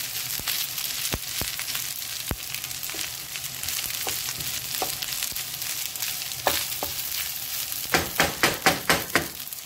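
Corn going into a hot pan for Jamaican fried rice, frying with a steady close sizzle, sharp clicks and knocks of stirring throughout, and a quick run of louder rhythmic scrapes near the end.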